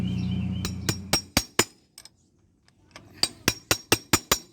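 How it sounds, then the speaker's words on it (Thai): A wheel bearing is driven in with a drift and wood block: loud, close metallic hammer strikes in two quick rhythmic runs of about five blows each, separated by a short pause. "เหล็กส่งมั่งเอาไม้ทาบแล้วก็ตอกเข้าไปมั่งนะครับ"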